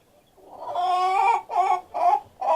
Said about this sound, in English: So now we have a total of 60 chickens.